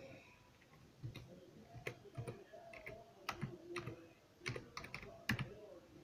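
Soft, irregular keystrokes on a computer keyboard tap out an image search in a blank document, scattered clicks with brief pauses, faint and close in a quiet room with no talking.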